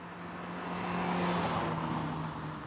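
A 2013 Alfa Romeo Giulietta Progression driving through a series of corners, its engine a steady, fairly quiet hum with a faint tonal whine, rising and easing slightly over a few seconds.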